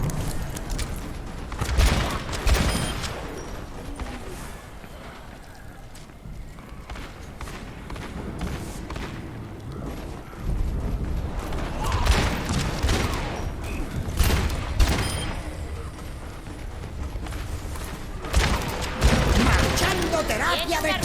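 Gunfire in the video game Overwatch, bursts of shots and thuds scattered across a busy match, with a voice talking over the action and background game effects throughout.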